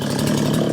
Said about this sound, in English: it only makes sense that I go get the chainsaw, we cut this off